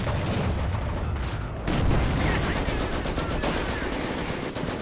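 Sustained gunfire and explosions from a StuG assault gun battle in Company of Heroes, with dense rapid bursts of shots over a heavy rumbling battlefield background, loud and continuous throughout.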